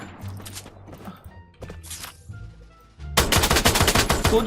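M60 machine gun fire in the shooting game Free Fire: a few isolated shots and mechanical clicks, then a loud sustained rapid burst of automatic fire filling the final second and a half.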